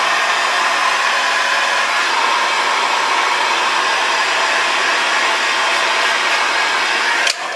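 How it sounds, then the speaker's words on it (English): A heat gun blows a loud, steady rushing hiss while shrinking heat-shrink tubing over wire joints for an auto-dimming mirror in a Dodge 2500, ending abruptly near the end. "the shrink wrap on up tight, and then you just gun it. Shrink it down."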